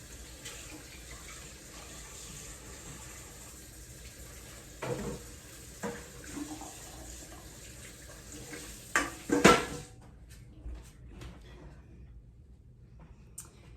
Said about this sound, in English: Rinse my hands.